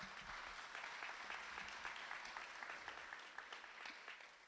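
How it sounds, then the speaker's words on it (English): Audience at a Rotary Club senior talent show applauds the contestants, a sustained, even wash of clapping from a sizable crowd, quiet and somewhat distant. "So a round of applause for them."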